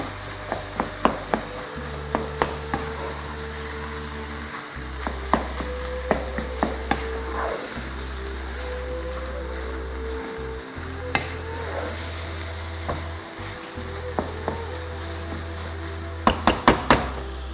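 Minced meat fries in a pan with a continuous close sizzle, punctuated by repeated sharp knocks and scrapes of a utensil stirring and breaking up lumps, with brief gaps in the hiss.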